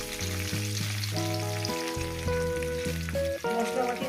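Spice paste hits katla fish frying in hot oil, giving a loud, continuous sizzle that runs under prominent background music with sustained melodic tones.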